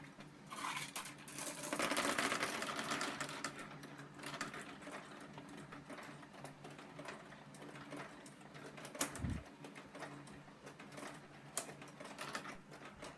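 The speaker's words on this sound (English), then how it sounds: "we can start a round by turning the left eye knob and dropping all of the marbles into the machine." Marbles tumble into a LEGO pinball machine after a knob is turned to start a round, a steady mechanical rattle and clatter of rolling balls and plastic parts with a few sharper knocks near the end.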